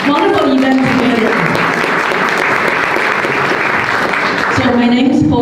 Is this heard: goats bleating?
no